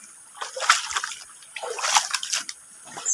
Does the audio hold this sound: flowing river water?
yes